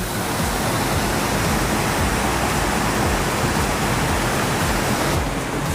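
The Tambak Kromo river in Kuasen village, Jepara, flowing with a steady, full rushing roar close by, loud and unbroken with no voices.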